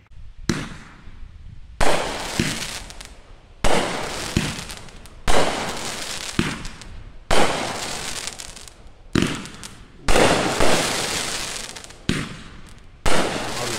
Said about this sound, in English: all shots in this cake had the same rising tails as well as the crackling chrysanthemum effect